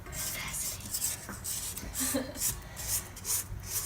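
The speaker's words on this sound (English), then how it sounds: "I'm going to scrape down the sides so all the flour gets incorporated." A spatula scrapes a flour mixture down the sides of a mixing bowl, giving soft repeated rubbing and rasping strokes close by, steady and fairly quiet with no talk.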